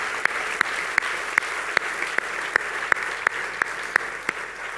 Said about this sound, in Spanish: quiero que demos un fuerte aplauso de bienvenida para todos